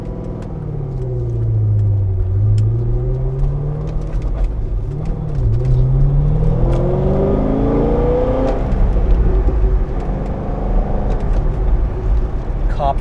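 A 2007 Chevrolet Corvette Z06 pulling hard through the gears from inside the cabin, engine note rising in pitch, dropping at shifts and climbing again, a loud steady roar throughout.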